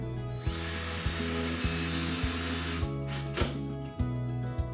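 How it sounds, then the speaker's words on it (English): A power drill whirs steadily and loudly, its motor pitch stepping in short repeated bursts as screws are driven into a blind bracket, ending with a few clicks. "Line the brackets up with the holes and drill in the screws."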